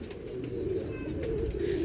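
A male pigeon coos nearby in a low, soft, continuous murmur, close and steady for a couple of seconds with no talking.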